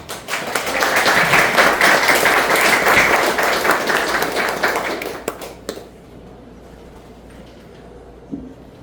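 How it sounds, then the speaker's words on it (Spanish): An auditorium audience at a legal lecture claps loudly and steadily for about five seconds, then the applause cuts off, leaving a quiet room with a single faint knock near the end. "Le damos un fuerte aplauso."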